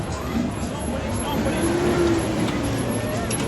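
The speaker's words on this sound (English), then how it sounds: "we've got a lot of traffic here with the train" Busy street traffic moves along in El Arenal, Mallorca, near Playa de Palma, where a tourist train passes among the cars: a dense, steady roadway roar with engine rumble and a brief tonal whine, and voices mixed into the noise.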